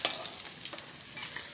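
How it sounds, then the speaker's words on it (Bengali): Fish frying in hot oil in a home kitchen while being stirred, giving a steady close sizzle with scraping stir noises and no talk. "মাছগুলো ভাজা হয়ে গেল"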